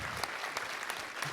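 Applause at a ceremonial city council meeting, a brief burst of clapping from a crowd of moderate size, heard close but fairly soft, with individual claps standing out at irregular moments.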